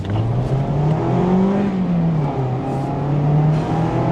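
A 2024 Mazda MX-5 sports car engine drones steadily at close range on a track, its pitch rising and falling as it revs and eases off, continuous throughout with no talking.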